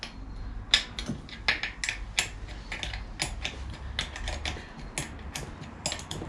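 Ratchet clicking while bolts are removed from the motor housing of a Kranzle pressure washer, close and fairly quiet, with irregular bursts of sharp mechanical ticks and small metallic knocks, no voices.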